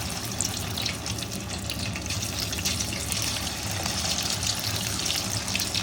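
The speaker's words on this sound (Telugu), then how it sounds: "చూసారా, మంచిగా వేగుతున్నాయి." Chicken pieces frying in hot oil in a kadai, a loud, dense, steady sizzle and crackle that fills the whole stretch without pause and without talk.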